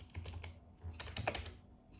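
A computer keyboard is typed on close by in quick, light keystrokes that come in short bursts with small pauses, sitting faintly over a low room hum.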